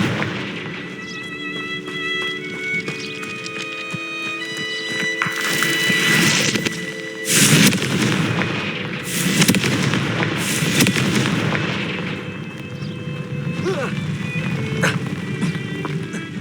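Confringo fire-curse blasts from Hogwarts Legacy gameplay, a few heavy booming bursts amid layered musical score and game effects, loud and close.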